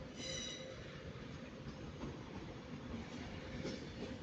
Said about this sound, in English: Oh, we got another Avanti coming in.